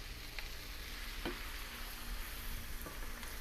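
Sausage and sweet potatoes sizzle steadily in a skillet, a dense continuous frying hiss with a few faint stirring clicks, no talking.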